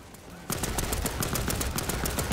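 Rapid machine gun fire in the shooter game Land of War: The Beginning, a loud, continuous rattle of close bursts that starts abruptly after a brief quieter moment and keeps going.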